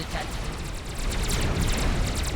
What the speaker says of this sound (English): I think we're about to see a comm explosion here